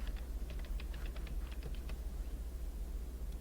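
Rapid keystrokes on a computer keyboard, tapping in quick, uneven bursts before slowing; the typing is close and fairly quiet, with no one talking.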